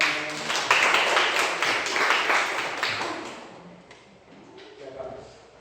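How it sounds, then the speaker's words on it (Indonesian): Classroom applause at a school presentation, a few seconds of scattered, fairly close hand clapping that thins out and fades as a voice begins speaking. "Tepuk tangan."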